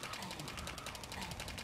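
An SMG fires in a video game in rapid, evenly spaced automatic bursts that carry on without a break. The shots are faint and sit low in the mix.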